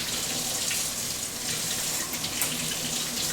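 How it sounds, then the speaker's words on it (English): A kitchen tap runs cold water over food in a sink while mashed potatoes are being cooked, a steady, close, continuous splashing rush with no speech. "I'm just going to run this under cold water for a very brief moment."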